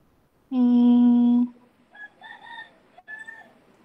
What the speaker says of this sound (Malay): bunyi ayam berkokok